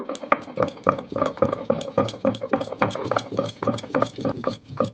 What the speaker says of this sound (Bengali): আমার পাটার মধ্যে সরষা ধুয়ে নিয়েছি তারপর সঙ্গে একটা শুকনো লঙ্কা এগুলোকে এখন আমি আটাতে পিষে নেব